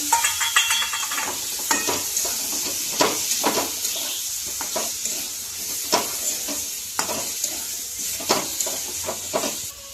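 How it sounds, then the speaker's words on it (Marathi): Steady sizzling of ridge gourd frying in a pan, punctuated by frequent scraping and clanking stirs of a spoon against metal. "हा बघा दोडका पण आपल्याला थोडा वेळ भाजू घ्यायचा आहे यामध्ये."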